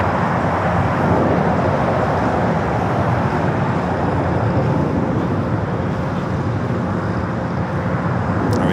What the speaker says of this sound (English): We do have a United Dreamliner heading down for takeoff.